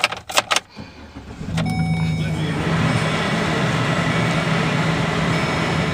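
A 2012 GMC Sierra pickup is cranked briefly, catches and then settles into a steady, smooth idle close by. A few clicks and rattles come just before the start.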